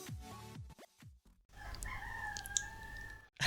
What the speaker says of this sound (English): not being completely disturbed by the rooster